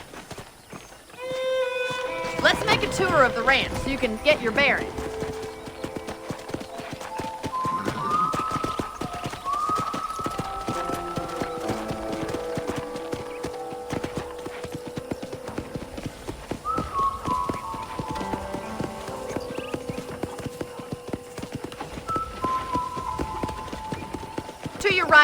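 Horse hooves clip-clop at a steady walking pace in the Western video game Red Dead Redemption, running beneath spoken character dialogue and soft sustained music, with a brief whinny-like sound near the start.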